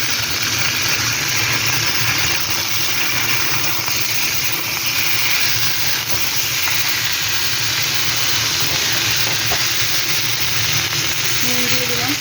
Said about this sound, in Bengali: পটলটা ভেজে দিচ্ছি।